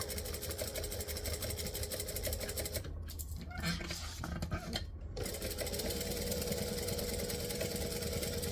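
A sewing machine stitching waterproof canvas for a bag, running steadily with a rapid, even mechanical chatter, loud and close, pausing briefly midway before resuming at the same pace.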